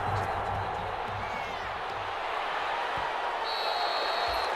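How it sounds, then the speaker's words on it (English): A stadium crowd roars in a steady, dense wash of cheering throughout an Eagles versus London Black Knights game in Madden NFL 21, with a few faint thuds underneath. "This crowd is ready as their guys get set to match up between the Philadelphia Eagles and the London Black Knights"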